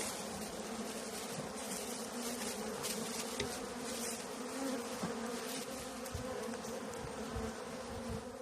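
Honey bees buzz in a weak spring beehive, a dense, steady close drone with faint individual wing whines flitting over it.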